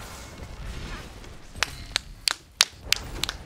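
A few people clap in scattered, uneven sharp claps at an esports match broadcast of the Heroes of the Storm tournament game, a half-dozen distinct smacks rising out of a low room murmur.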